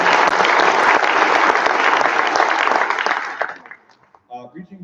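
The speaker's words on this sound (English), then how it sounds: "a big round of applause for you and for the students as well" Loud, dense audience applause fills a school band's winter solstice concert hall, then fades out, leaving faint scattered noises at the end.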